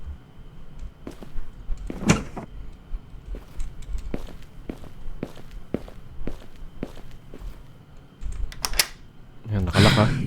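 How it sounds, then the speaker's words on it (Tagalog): In the Filipino horror video game MARUPOK, a door is shut and locked amid a string of footsteps and clicks, a heavier thud and clatter landing at the end, with speech from the player. "Kailangan ko siguraduhin sarado yung pinto Oo nga, lock natin."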